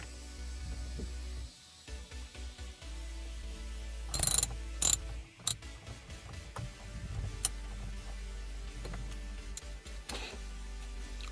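A ratchet wrench clicks while loosening the steering wheel bolt on a Mitsubishi Evo X, a close mechanical ticking with a few sharp louder clacks partway through, in a quiet interior.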